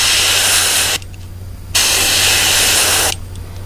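An airbrush sprays paint onto a fishing lure at fairly low pressure, two close steady hissing bursts separated by a short quiet gap, with no talking.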